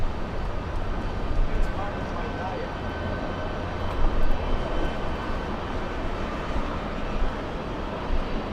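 A jet airliner taking off from runway 24 left at LAX, a loud continuous engine roar heard from a distance, with air traffic radio talk over it.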